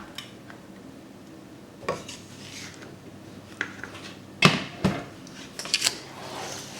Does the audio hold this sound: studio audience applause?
no